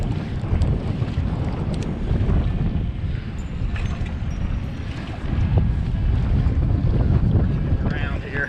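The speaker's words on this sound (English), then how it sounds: "starting to get some boat traffic" Boat traffic passes on open water on a Sunday in about 10 feet of water during a catfishing trip, a steady low engine rumble mixed with wind buffeting the microphone and lapping waves, with no talk.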